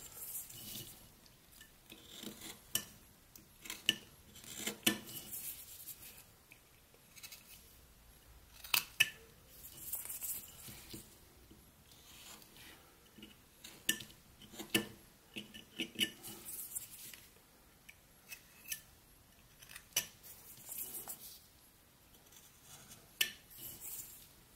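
A knife takes tiny scooping cuts in wood while whittling a carved nose, making repeated short, soft scraping and shaving strokes in an irregular rhythm, close up and fairly quiet.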